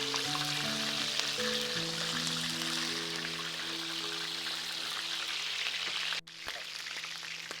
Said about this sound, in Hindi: अब इसमें हम उसको तवे में डाल के फ्राई करेंगे।